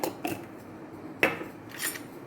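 A utensil stirs a pot of laksam broth, scraping and clinking against the metal a few times with short pauses between strokes.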